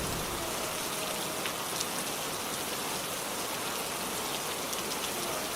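Steady rain falls on surfaces, a constant hiss of many drops heard at a low, even level throughout, with no voices.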